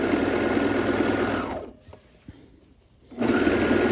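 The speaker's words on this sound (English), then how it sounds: "So it uses 4 threads to overlock, 2 that go up and down through the fabric and 2 that stretch around the outside of the fabric and enclose that" A four-thread serger overlock machine stitching the hem of shorts fabric, with a loud, fast, buzzing whir that stops briefly for about a second and a half before starting again, with no talking.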